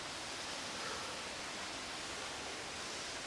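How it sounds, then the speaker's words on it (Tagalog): Marilag Falls in Santa Maria, Laguna pours in a dense, even roar of rushing water, loud and unbroken for the whole stretch, with no voices. "ang lakas ng waterfalls oh"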